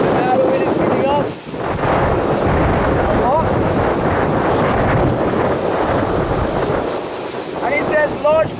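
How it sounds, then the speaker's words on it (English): Strong wind roars and buffets the microphone continuously during a high-wind flight test of a DJI Mavic Pro drone, with a faint whine wavering above the loud, steady rush. "And now the wind is picking up."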